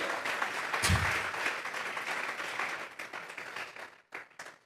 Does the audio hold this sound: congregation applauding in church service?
yes